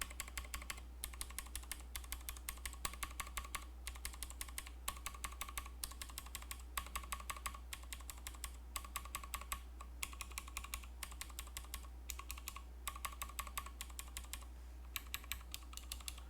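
Someone types on a ph60 keyboard fitted with Pro World clicky switches, producing a rapid, steady stream of crisp clicks and bottom-out clacks with brief pauses between bursts, quiet and close, with no talking.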